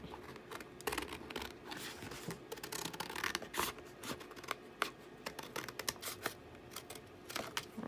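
Scissors snipping through paper while trimming collage tags at a crafting table, a quiet run of short crisp cuts and rustles scattered irregularly across the clip, close by and faint, with no voice.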